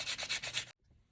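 Rhythmic back-and-forth sanding strokes on filler in a mannequin hand, about five quick passes of abrasive rubbing, close and steady, then stopping abruptly into near silence.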